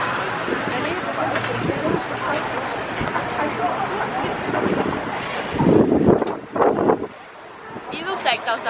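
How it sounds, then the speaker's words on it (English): Strong wind buffets the microphone in a constant roar at Naschmarkt in Vienna, with people talking over it and a few louder gusts near the end. "it's really windy"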